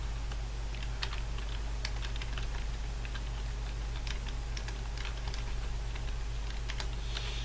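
Typing on a computer keyboard while setting up a flight in X-Plane 10 with an EMB110 Bandeirante: quick, irregular clusters of light key clicks close by, over a constant low electrical hum.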